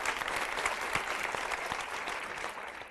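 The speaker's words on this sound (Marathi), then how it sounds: "त्यांच्यासाठी आधीच टाळ्या वाजवून शुभेच्छा देऊ" A studio audience at a Marathi TV game show breaks into steady, dense applause heard from a moderate distance, filling the whole moment without voices over it.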